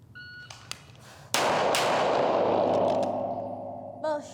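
A single sharp handgun shot cracks at an outdoor live-fire training range, followed closely by a second shot, then a long ringing decay; faint clicks come before, and a voice begins speaking at the end.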